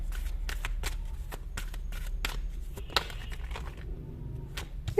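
Tarot cards shuffled in a steady run of quick riffling bursts, close and fairly quiet over a low background hum, with no talking.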